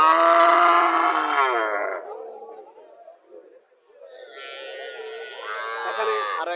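A cow at a dairy farm keeping Friesian, Jersey and Haryana breeds gives two long, loud, close moos, separated by a brief low grunt.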